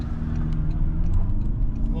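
A 2025 Toyota Camry LE engine drones low and loud as it builds revs in a torque-brake launch, heard from inside the car with a voice partly over it.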